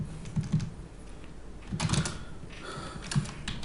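Close computer keyboard typing during invoice setup in Tally ERP 9 accounting software, a few short clusters of soft key clicks over a steady background hiss, no talking.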